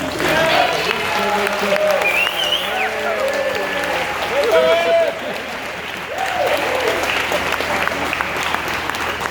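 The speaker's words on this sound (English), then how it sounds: "So one more round of applause for Erin" An audience applauds at the close of a startup pitch event, steady clapping from a sizable crowd filling the whole stretch, with a few scattered voices and cheers mixed in.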